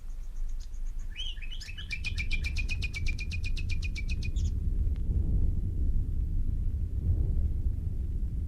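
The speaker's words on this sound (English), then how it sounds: "suddenly, just before dawn, we heard the nightingales." Nightingales sing before dawn as a sound effect in a live radio theatre play. A bright, rapid trilling phrase of repeated notes runs for a few seconds, then gives way to a low rumbling room ambience.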